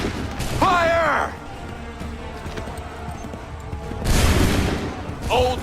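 Musket volley gunfire in the video game Assassin's Creed 3, booming shots at the start and again near the end, with shouted commands heard in between.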